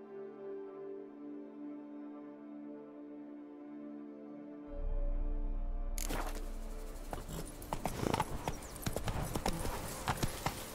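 Roach, a horse in The Witcher 3, trots with rhythmic clip-clop hoofbeats that start after a quiet stretch of low ambient tone and grow louder and more distinct toward the end.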